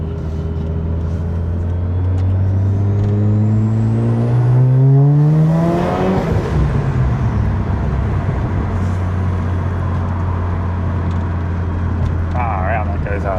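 Turbocharged Mazda RX8 rotary at 12 PSI accelerating hard, engine note climbing loudly through the revs to a peak and shifting, close and powerful, with faint talk at the end.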